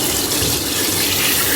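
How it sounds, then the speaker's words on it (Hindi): Half a cup of water is poured into chicken cooking in a pan for a Mughlai chicken changezi, making a continuous close splashing, gurgling pour that lasts the whole moment. "अब इसमें मैं हाफ़ कप पानी डाल दूँगी।"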